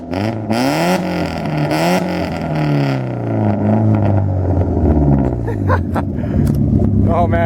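Straight-piped Volvo 740 GLE 16-valve engine revs hard several times, climbing and falling in pitch with a raspy, rumbling exhaust, very loud and close, with a brief voice near the end.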